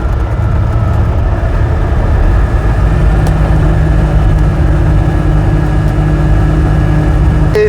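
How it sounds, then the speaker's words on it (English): An Invacar with a 493cc air-cooled Steyr-Puch flat twin engine drives along, a loud, constant low mechanical drone and rattle filling the cabin throughout, with no talk. "we've got a 493cc air-cooled flat twin by Steyr Puck"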